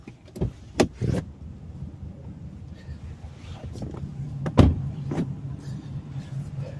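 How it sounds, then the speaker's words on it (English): Electric windows in a 2019 RAM Rebel truck hum upward inside the cab, a low steady motor drone with a few sharp clicks and thumps over cabin noise. "Let's put the windows up, keep the AC on."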